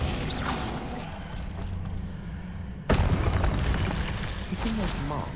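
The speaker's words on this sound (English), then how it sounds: "Hitting those marks readjusts the archways" Archways readjusting in Hogwarts Legacy, a sudden heavy boom and grinding mechanism that cuts in midway over a rumbling background, with a voice speaking briefly.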